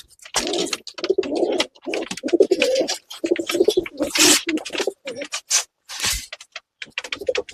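Pigeons coo repeatedly at a fancier's loft in Punjab, soft rhythmic calls mixed with nearby birds, while people talk over them throughout.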